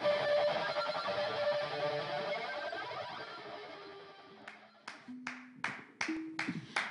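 Clapping, about six sharp hand claps in an uneven rhythm after a fading electronic sound effect, close and moderately loud.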